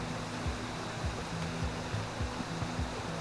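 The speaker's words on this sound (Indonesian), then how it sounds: "kita hanya perlu mengikuti aliran air yang bersumber dari air terjun" Water flowing from a waterfall along a mountain stream near Puthuk Gragal, a steady, even rushing hiss heard alone, with soft low pulses beneath it.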